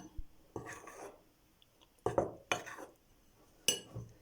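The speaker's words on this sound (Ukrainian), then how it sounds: "Та розмішую." A spoon mixes cake batter of flour, sugar, vanilla and baking powder in a bowl, making a few quiet scrapes and light clinks against the sides, separated by pauses.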